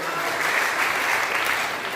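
Steady, fairly close applause from the audience at a Hindi poetry gathering (kavi sammelan), a continuous wash of clapping with some voices mixed in.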